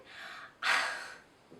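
Two breathy, rasping snores close by, one soft and one louder, sounding like airy snorting breaths in a quiet room.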